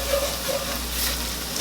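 Flour being stirred into onions frying in a soup pot over medium heat for baked potato soup: a soft, steady sizzle and hiss with faint stirring scrapes, quiet and continuous, no talking.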